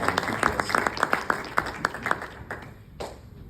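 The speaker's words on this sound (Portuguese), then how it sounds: "vamos recebê-lo com um bem-vindo nessa noite e uma salva de palmas," A church congregation claps in welcome for a visiting preacher, a burst of dense, lively applause from many hands that thins and fades toward the end.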